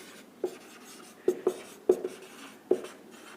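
Pen or marker writing on a board while working through a math equation: five short, quiet scratching strokes in small irregular clusters, close and clear over a faint hiss.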